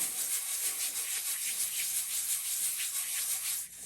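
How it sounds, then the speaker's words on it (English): Paper being rubbed by hand over a styrofoam print plate, a steady, close, continuous scratchy rubbing with a fairly even rhythm throughout, no talking. "We're just going to lay it flat right on our print. Give it a good rub."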